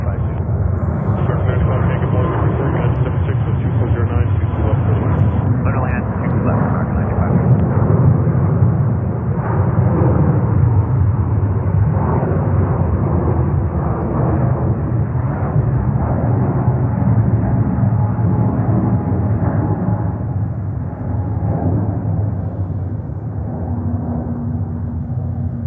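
Japan Airlines Airbus A350-1000 departing JFK airport bound for Tokyo Haneda, a steady loud jet roar that holds for a long stretch and slowly fades, with a voice speaking over it.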